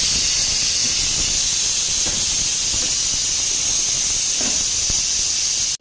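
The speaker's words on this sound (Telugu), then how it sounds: "ఆవిరి ఉడుకుతుంది కొద్దిగా, లేకపోతే అడుగు మాడుతుంది" Steady, loud hiss of steam rising from cooked rice left on a hot pan to finish steaming, a continuous broadband rush with faint crackles underneath, no voices.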